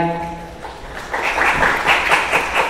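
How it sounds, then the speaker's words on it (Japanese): Audience applause at a Web3 summit pitch event in Japan, swelling in after a voice fades out and continuing as steady, moderately loud clapping from a large room. "大きな拍手でお迎えください。"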